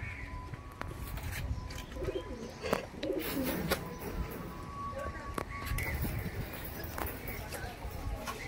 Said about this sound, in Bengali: বন্ধুরা এখানে একটা সিঙ্গেল মাদি পায়রা দেখতে পাচ্ছেন